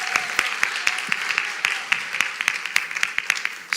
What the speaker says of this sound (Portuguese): Uma salva de palmas para essas mulheres maravilhosas.